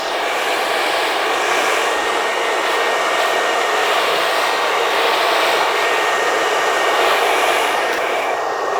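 Hair dryer blowing steadily on a fringe, loud and close, a continuous whooshing roar with no talk.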